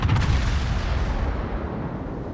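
A heavy naval gun salvo booms from a warship in World of Warships, one loud low blast that rolls and fades over a couple of seconds, with no voices.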